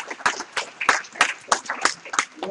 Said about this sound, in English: let's all give Bill a huge round of applause